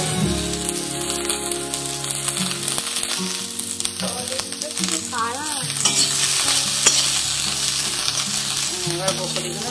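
Turmeric is stirred into hot oil in a pan for a Bengali-style broccoli stir fry. A steady close sizzle runs throughout with scraping spatula strokes.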